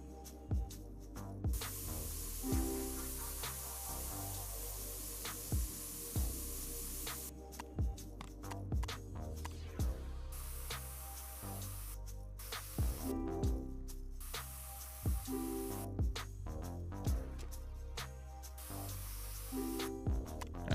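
Spray painting a car in the video game Spray Paint Simulator, long hissing bursts of spray in repeated passes, broken by short pauses and clicks, over a low droning game soundtrack with a steady beat.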